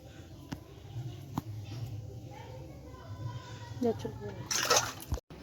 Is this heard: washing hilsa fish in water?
yes